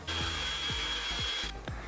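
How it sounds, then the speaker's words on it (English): Eggs and sugar being mixed for cupcakes produce a faint, rhythmic scraping, repeated strokes roughly every half second over a soft steady hiss. "since we are done mixing the egg and sugar"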